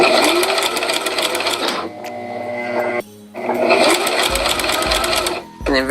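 A sewing machine stitches a fabric glove in place for a Mystique cosplay costume, running in steady close bursts with a short pause, a brief stop and a final restart.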